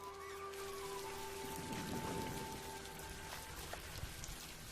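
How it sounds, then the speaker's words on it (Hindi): Heavy rain pours steadily in a cartoon storm scene, a dense, continuous hiss of drops on surfaces with faint tonal music lines running through it and no voices. "क्या ये तूफान जल्दी थम जाएगा? नहीं, लगता है कि ये और भी तेज होने वाला है।"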